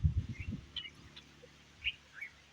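A sparrow perches in a ber tree on a farm with lemon and almond trees nearby. A few faint, scattered chirps come at intervals over quiet outdoor background noise.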